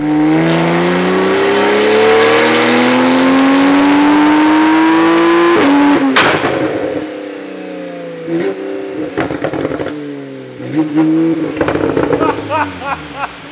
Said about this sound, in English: we're getting it prepped to go on the dyno and start putting some, some real power through that